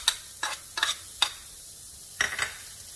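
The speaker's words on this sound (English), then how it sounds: "And now it's time to saute my onion." Onion sautéed in a little oil and bacon grease in a pan, heard as a few sharp, ringing metal taps and scrapes spaced apart over a faint low sizzle.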